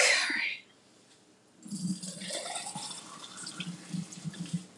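Hot pasta water being poured into a cup over a kitchen sink, a short burst of splashing at the start, a pause, then a longer trickling, bubbling pour that continues faintly.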